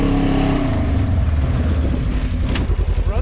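A Polaris RZR side-by-side backs up, its engine rumbling loudly and close, the tone dropping and then settling into a throbbing idle near the end.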